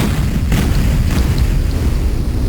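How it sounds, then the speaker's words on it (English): A deep, rumbling explosion boom in Duke Nukem 3D with a Duke Nukem 64 mod rolls on with low, continuous noise and a couple of faint bursts, with no voices. "More polygon explosions"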